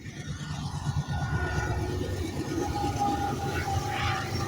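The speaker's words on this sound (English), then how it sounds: "The train passing." A train rolls past on nearby tracks, a continuous heavy rumble with faint tonal squeals and whines rising over the low roar, steady and close throughout.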